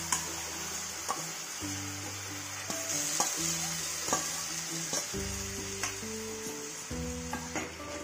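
Laha saag greens are stirred and mixed in a hot pan, giving a continuous close sizzle with repeated scraping and clattering strokes of a utensil against the pan.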